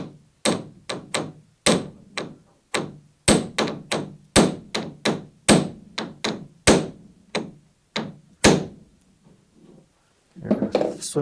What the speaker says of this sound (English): The hammer, just the hammer, okay?